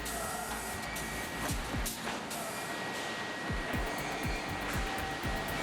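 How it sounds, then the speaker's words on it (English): An industrial kiln drying oven for stacked lumber at a large sawmill blows a steady broad rush of air, with a few low thumps and faint mechanical ticks under the constant hiss. "The entire pile of lumber is then moved into an industrial kiln drying oven"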